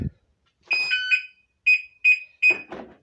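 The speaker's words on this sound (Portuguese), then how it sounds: "Daqui a pouco ele vai ligar o alarme" A Volkswagen Logus car alarm gives a run of short, high electronic chirps in quick bursts, followed by a brief mechanical clunk of the electric door locks.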